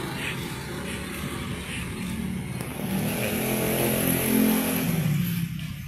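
Motorbikes on a neighbourhood street during a morning walk in Pondok Gede make a steady engine drone, swelling gradually as one passes close, with no talk.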